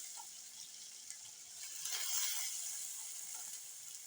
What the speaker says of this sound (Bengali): এখন দিয়ে দিল পেঁয়াজ বাটা